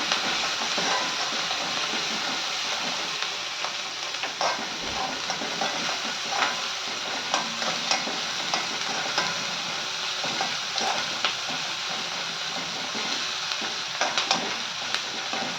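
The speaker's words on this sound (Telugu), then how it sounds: "ఒకసారి కలుపుకుందాం మొత్తం" Sliced bitter gourd fries with green chillies in a thick pan, a loud continuous sizzle punctuated by scraping stirs and soft clicks of a spatula against the metal.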